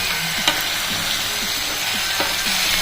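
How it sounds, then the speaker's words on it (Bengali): Tomatoes are stirred into a frying pan for a kudri (ivy gourd) dish, making a loud, continuous close sizzle with a few scraping stirs of a spoon and no voices. "এবার টমেটোটাকেও মিক্স করে নেবো"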